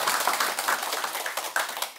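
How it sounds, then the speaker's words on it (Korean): An audience in a Buddhist dharma hall claps together in a dense, steady burst that lasts about two seconds. "박수 한번."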